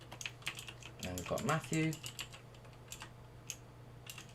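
Rapid clicking keystrokes on a computer keyboard as code is typed into the NetBeans editor, steady taps under a man's speech, with a denser flurry midway.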